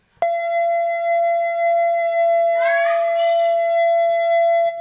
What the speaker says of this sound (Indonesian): pada saat pintu terbuka, mesin mati, pada saat kunci sudah lepas dari colokan, biasanya bunyinya panjang sekali.